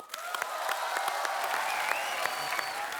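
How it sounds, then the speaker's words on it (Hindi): Studio audience on a Hindi comedy talk show applauding as actress Nidhi Agarwal is welcomed onstage, dense steady clapping with faint crowd murmur throughout. "तो आप सबकी जोरदार तालियों के बीच please welcome very beautiful Nidhi Agarwal."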